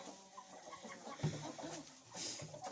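Hens cluck softly in a coop where a broody hen sits on her nest, with low, faint murmuring calls and a few short clucks close by.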